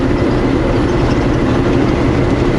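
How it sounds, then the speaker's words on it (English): A train rolling steadily along reopened prairie rails after a derailment cleanup, a loud continuous rumble with rhythmic wheel clatter close by. "that train's moving, so rails are open again."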